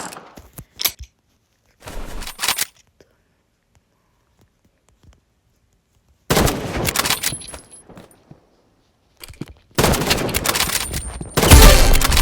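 Gunfire from the shooter game Rivals comes in dense, loud bursts separated by near silence, with short rapid volleys early and longer sustained fusillades later, all without talk.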